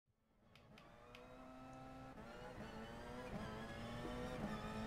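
Porsche 919 Hybrid race car in Gran Turismo Sport on the Le Mans circuit, its engine rising steadily in pitch and loudness as it accelerates, with harmonic whine building through gear changes, close and continuous with no talk.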